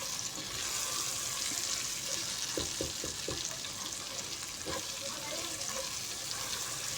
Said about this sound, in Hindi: तो अब हमने इनको अच्छे तरीके से फ्राई कर लेना है टिंडों को